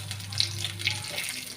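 Shallots and mustard seeds fry in hot oil, a soft steady sizzle with light crackles and faint clinks, close but quiet, ending in a brief louder rustle.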